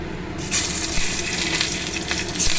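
Whole dried chillies and black cumin seeds sizzling in hot oil in a pan for a Bengali Bhola fish curry; a loud, steady frying hiss starts abruptly and holds with no talking.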